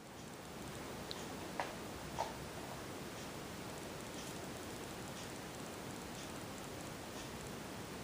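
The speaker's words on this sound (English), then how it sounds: "the low speed, which I'll show with the fan and light on running simultaneously here" Hampton Bay Windward IV 52-inch ceiling fan running on low speed with its light on, a steady faint airy whoosh with no hum and a couple of tiny ticks near the start.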